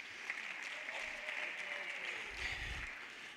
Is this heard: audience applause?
yes